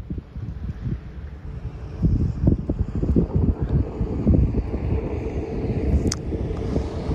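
Gusty wind buffets the microphone in low, uneven rumbling bursts, stronger in the second half, with a faint engine hum in the background.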